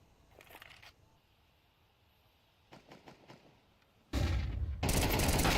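Gunfire from an MP9 in a Counter-Strike esports match comes as a short, faint burst early on, then loud, sustained rapid bursts near the end, without commentary.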